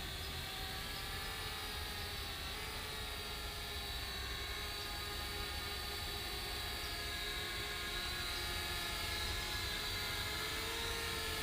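A small FLITT Wifi FPV selfie drone hovers with a steady high-pitched propeller whine and dense buzzing harmonics, constant and close throughout at low level, with no speech.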